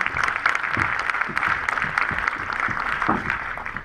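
An audience claps steadily at a festival closing gala, a dense, continuous wash of applause lasting the whole stretch, fairly close and loud and heard on its own.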